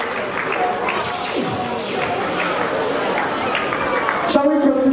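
Guests at a marriage blessing in Worcester, Massachusetts applaud Mr. and Mrs. Michael Skipper with steady, moderately loud clapping and crowd murmur, while a voice speaks over the applause.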